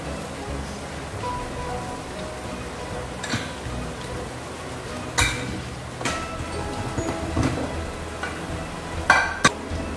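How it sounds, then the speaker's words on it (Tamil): Cooked rice, steamed in coconut milk, tipped into a pan of fried vegetables for vegetable fried rice and stirred, giving steady scraping and a soft sizzle with occasional clinks of the spoon against the pan, close and moderately loud. "இப்போ நம்ம இந்த தேங்காய் பாலில் வேக வச்ச அரிசி வந்து இதில் கொட்ட வேண்டியதான்"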